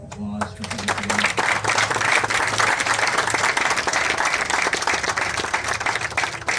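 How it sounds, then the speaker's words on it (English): An audience breaks into steady applause at a 1993 Dodge Viper event, a dense crowd of clapping that swells in and holds for several seconds, with a voice briefly heard at the very start. "Could you give them a round of applause for putting it together?"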